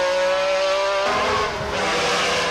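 A Metro rally car racing on the 1995 Donegal Rally: a sustained high engine whine with strong harmonic tones, shifting partway through as the car changes gear and passes, loud and close, with no talk.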